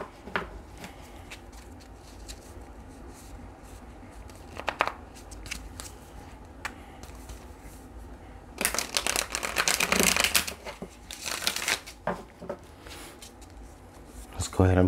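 Tarot cards shuffled by hand in bursts of crisp riffling and papery slaps, near and fairly loud, with quieter ticks and rustles around them.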